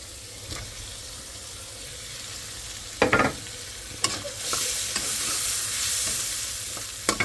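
Fish fries in hot oil in a pan with a steady, soft sizzle that runs throughout, broken by a few clinks and stirring knocks near the end.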